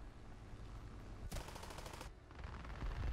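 A rapid burst of heavy 20 mm aircraft cannon fire from three cannons in War Thunder rattles for under a second, then a second stream begins, loud over a low engine drone.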